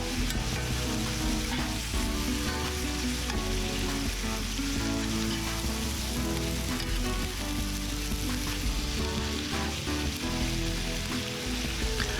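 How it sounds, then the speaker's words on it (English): Loud, steady sizzling fills a cast iron pan during a stir-fry with garlic, a constant crackling hiss with scattered pops and clinks, no voices. "Give that a quick stir."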